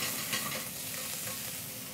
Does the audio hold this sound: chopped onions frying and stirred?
yes